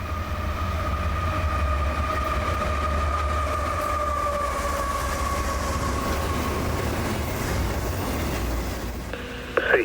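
A CSX freight train led by a locomotive rolls past southbound at night in Wildwood, Florida, a loud steady rumble of wheels and rail noise with a sustained horn-like tone, continuous and close throughout.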